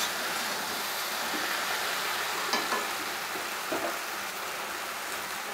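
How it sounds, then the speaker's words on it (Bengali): Okra (bhindi) stirred while lightly frying in a pan, a steady soft sizzle with a few faint scraping clicks of the spatula, no voices. "খুব হালকাভাবে ভাজবো। ভেন্ডিতে একটা পিছলে একটা ভাব থাকে, ওই ভাবটা চলে যাওয়া অবধি আমি নাড়াচাড়া করি।"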